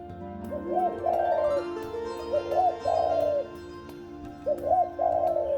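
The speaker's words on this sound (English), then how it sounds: "Dharma took the shape of a white dove." A white dove coos in three soft, rolling phrases with short pauses between them, clear and close, used as a sound effect in a children's story.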